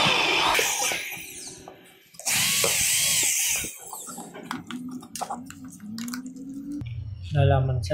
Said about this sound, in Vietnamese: Đây là mình sẽ khoan hai cái lỗ ra.